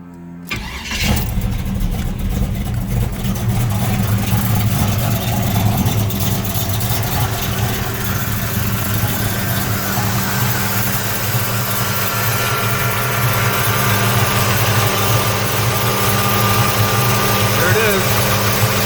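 Car engine fitted with a Holley 950 carburetor (converted 750/850 carb) running loud and steady after starting, with a continuous low rumble and rising revs throughout.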